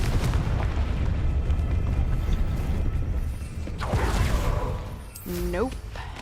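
Confringo explosion spell in the Hogwarts Legacy video game, a dense rumbling blast with low booms and crackling debris, followed by a fainter swell and a short rising magical tone near the end.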